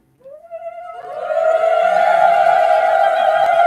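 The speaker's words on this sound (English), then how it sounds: "the ladies made one particular sound. It's called the Uludvani." Women at a Gaura Purnima festival gathering in Berlin ululate together in the festive uludhvani, a high trilling warble that starts with a single voice, swells as others join, and holds loud and sustained to the end.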